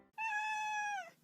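Single kitten meow in a cartoon, a clear rising-then-falling cry lasting about a second, close and loud with no other sounds around it.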